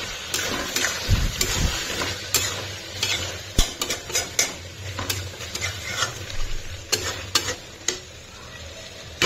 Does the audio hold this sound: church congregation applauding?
no